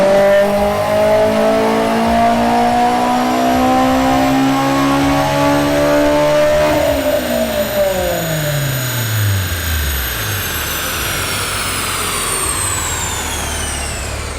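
A K-swapped Honda S2000 with a KPro setup revs hard on a dyno during a tuning pull, rising loud and close for several seconds before dropping away to a lower roar.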